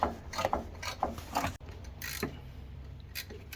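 A wrench ratchets on a bolt while coil springs go into a Lincoln Navigator in place of its air suspension. Quick bursts of clicking repeat in short runs, close by, with brief pauses between them and no talking.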